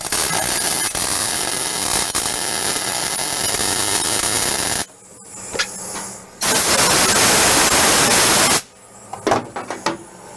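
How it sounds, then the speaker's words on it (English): Plug welding a brace back into a dump truck body in a collision shop, with two long bursts of loud crackling, hissing weld noise separated by quieter gaps holding faint clanks and taps. "I'm going to show you how I would plug weld that brace back into place."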